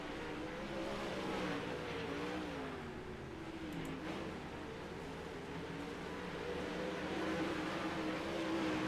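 360 sprint race cars circle Cedar Lake Speedway on warm-up laps, a steady, dense engine drone holding at fairly constant loudness throughout with a slight swell near the end, as if several cars run together at a distance.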